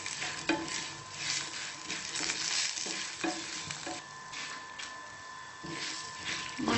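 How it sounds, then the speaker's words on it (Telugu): Turmeric and asafoetida spices frying and being stirred in a pan for sambar masala, a steady close sizzle with repeated scraping stirs throughout, no voices. "కొంచెం పసుపు, కొంచెం ఇంగువ యాడ్ చేసి కలర్ చేంజ్ అయ్యే వరకు ఇలా మిక్స్ చేస్తూ ఫ్రై చేసుకోవాలి"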